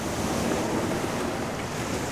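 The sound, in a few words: ocean waves on beach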